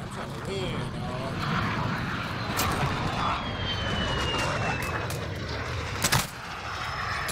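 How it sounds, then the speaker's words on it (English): A VTOL aircraft in the shooter game Modern Warfare drones overhead as a continuous loud engine roar with a faint rising whine, under gunfire bursts and talk. "Friendly VTOL on station for Overwatch."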